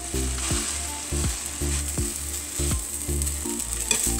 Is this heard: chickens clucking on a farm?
no